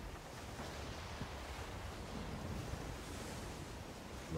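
Ocean waves and wind rush steadily past a sailing ship at sea in the game Skull and Bones, a continuous broadband wash of surf with no speech.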